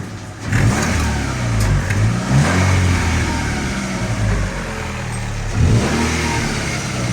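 A Chevrolet Nexia 2 with a 1.6 DOHC engine and an aftermarket muffler tip revs loudly and close up as the accelerator is pressed, rising in two or three surges before settling back.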